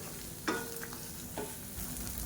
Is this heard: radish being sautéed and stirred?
yes